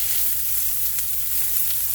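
Leftover cooked rice, about two cups, hitting a hot pan for veggie fried rice, giving a steady, loud, close sizzle that holds evenly throughout with no talking.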